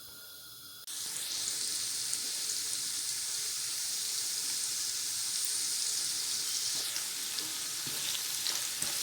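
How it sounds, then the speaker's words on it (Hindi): Carrots frying in a pan give a loud, steady hiss after a brief quieter start and continue evenly with faint clinks near the end. "1 बाउल कैरेट हमने फ्राई कर लेना।"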